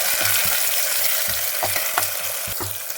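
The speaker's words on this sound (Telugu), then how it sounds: "ఇప్పుడు ఇందులోకి ముందుగా కట్ చేసి పెట్టుకున్న టమాటాలు అయితే వేసేసుకోవాలి. వేసుకుని ఒకసారి కలుపుకుందాము." Tomatoes sizzle in a pan while a spoon stirs them in quick, repeated scrapes over steady frying hiss.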